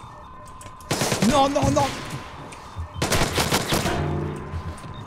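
Bursts of automatic gunfire in Splinter Cell Blacklist, two loud rattling volleys a couple of seconds apart, with someone speaking French briefly between them.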